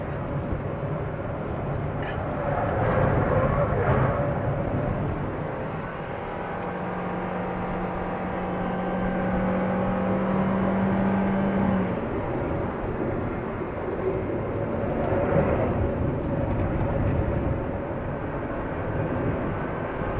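A Suzuki Swift drives and accelerates on a track, its engine and road noise forming a loud, steady drone that holds close and even throughout, with no talk.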